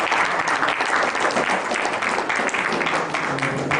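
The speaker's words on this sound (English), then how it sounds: "Please clap for me." Sustained audience applause fills a hall during a plenary session of Nigerian architects, dense and steady clapping throughout with no pauses.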